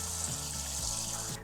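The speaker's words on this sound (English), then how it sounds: "put them in a pot and cover them with water" Water running into a pot holding chunks of pig's tail, a steady splashing flow like a filling sink that shifts in tone as the level rises and cuts off at the end.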